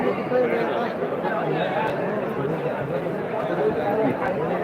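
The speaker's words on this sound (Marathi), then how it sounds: "आता ही जी गर्दी इकडनं" Dense crowd chatter fills a busy Datta temple, a steady babble of many overlapping voices with a close speaking voice running over it throughout.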